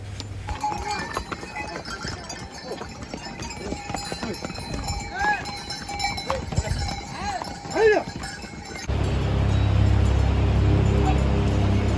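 Horses walk a mountain trail on the route to Kedarnath, hooves clip-clopping unevenly at close range among animal calls, with the ambience turning into a steady roar near the end.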